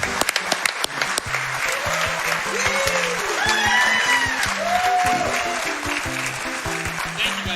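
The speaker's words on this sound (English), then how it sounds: "He's realized we're cheering for him." A speedrun event audience at a Super Mario Bros. 3 100% race cheers and applauds a winner, with sustained loud clapping and crowd noise, and voices shouting and whooping over it.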